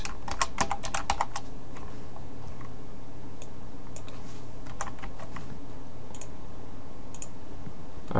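Rapid bursts of typing on a computer keyboard, with dense clusters of key clicks at the start and scattered keystrokes later, heard close over a steady low room hum.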